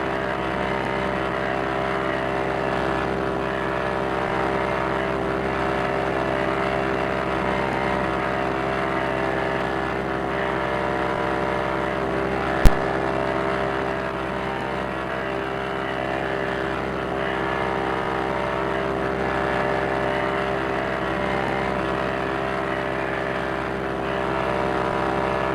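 A P-40E Warhawk WWII fighter in a Quest 3 flight game drones with a constant steady propeller-engine hum, even and unbroken over a long stretch, broken once by a single sharp click near the middle.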